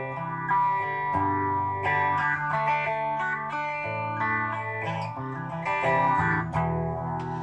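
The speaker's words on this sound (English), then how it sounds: "I'll now sort of let you hear the phaser as it is on its own a bit." Electric guitar played through a four-stage phaser pedal, chords and single notes with a sweeping, swirling tone, played alone at moderate loudness.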